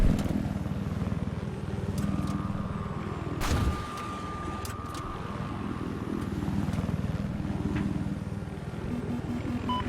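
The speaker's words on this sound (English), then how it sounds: "I spotted an enemy helicopter." An enemy helicopter in the Sunken Dragon battle of a shooter video game, a sustained rotor drone amid loud battle noise with a sharp explosive crack partway through.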